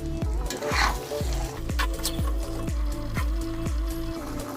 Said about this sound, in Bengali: দশ পনেরো মিনিট ভালো করে কষিয়ে নিতে হবে চিকেনটা দিয়ে